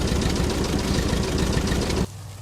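An old Ford tractor engine with a fuel-starved carburetor runs rough and loud at a low, uneven idle, then abruptly drops to a quieter hum near the end.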